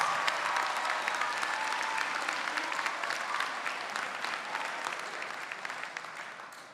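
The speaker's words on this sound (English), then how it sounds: "a round of applause." Audience at a college commencement ceremony in a civic center arena breaks into loud, sustained applause that holds steady and then slowly tapers toward the end.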